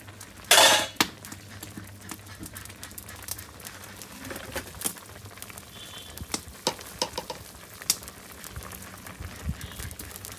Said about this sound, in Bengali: বন্ধুরা, আমার সবজি হয়ে গেছে, এখন আমি জিরা গরম মশলা দিয়ে দেব।